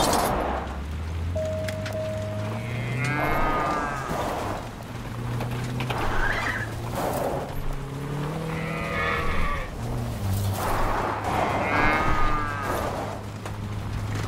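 Cattle moo repeatedly in the driving video game BlindDrive, long low calls rising and falling over steady engine-like drone, loud and close throughout.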